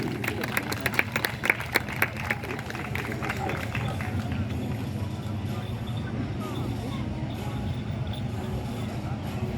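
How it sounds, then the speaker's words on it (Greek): A burst of clapping at the start fades into the rumble of a crowd and engine noise, with a loud voice speaking over it. "Θερμό χειροκρότημα."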